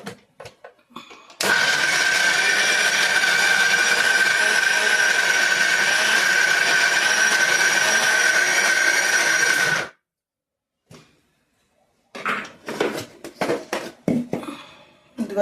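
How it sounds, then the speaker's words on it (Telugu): A mixer grinder whirs loudly and steadily for about eight seconds as it grinds chutney in a mixie jar. It then stops, and a few short clatters and handling noises follow. "ఇప్పుడైతే మిక్సీ వేసుకుందాం."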